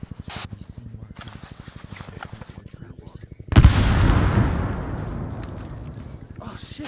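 A grenade blast in a first-person shooter game erupts loud and close after a stretch of rapid gunfire, its booming rumble then decaying over several seconds.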